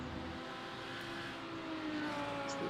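Race cars lap Spa in iRacing with Audi R8 GT3 and BMW machinery in an endurance event. Steady engine tones hum at moderate distance and swell slightly toward the end as a car accelerates closer.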